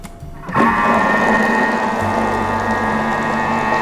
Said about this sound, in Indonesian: kita akan lanjutkan mengocok lagi selama 2 menit, kecepatan 4